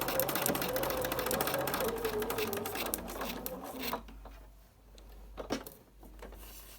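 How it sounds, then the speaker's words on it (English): A Bernina sewing machine stitches a paper quilt pattern in a rapid, steady mechanical patter, then slows and stops, leaving softer intermittent whirring and clicks close by. "as I get over to my sewing machine here, I'm just going to sew around the box"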